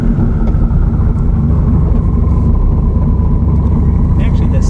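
A 1000-horsepower Corvette cruises down a street, its engine a loud, steady, dense roar that barely changes pitch throughout, with road and wind noise mixed in.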